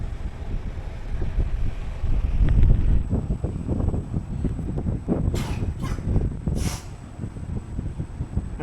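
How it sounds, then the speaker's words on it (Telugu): Cool breeze blows in through open windows near Kovalam Beach in Kerala, a low gusty wind rumble over the microphone with faint surf-like hiss and a few brief higher bursts. "ఈ కిటికీలలో నుంచి అయితే మంచి గాలి వస్తుంది"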